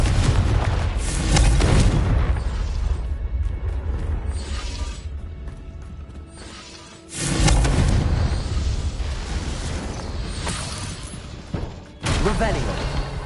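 Spell explosions from the Confringo fire curse in the Hogwarts Legacy video game, loud booming blasts around 0–2, 7 and 12 seconds amid continuous game noise, with some talk mixed in.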